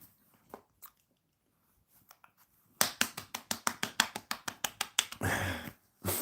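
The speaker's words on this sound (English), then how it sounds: "That was me clapping for you" A streamer claps their hands in a quick run of about a dozen sharp, close claps with an even, rapid rhythm, followed by a short rustling burst and a final clap.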